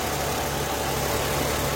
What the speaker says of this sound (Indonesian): Mesinnya kemarin saya overhaul. Nah, kalian bisa perhatikan di sini. Sehalus ini mesinnya.